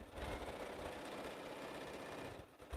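A domestic sewing machine stitches steadily while quilting, a fast, even motor whir close by with no talk, easing off just before the end.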